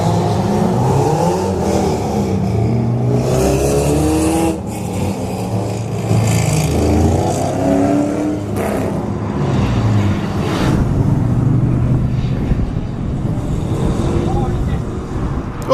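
Drift car engine revving hard at a drift practice day on a track, the roar rising and falling through handbrake and clutch-kick entries, loud and close with other engine noise and excited talk over the top throughout.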